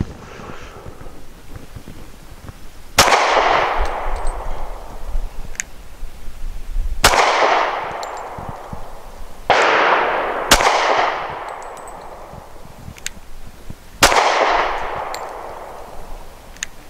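Four loud, sharp gunshots from a Smith & Wesson Shield pistol chambered in .40 S&W, fired one at a time with pauses of a few seconds between them, each crack trailing off in a long outdoor echo over faint wind noise.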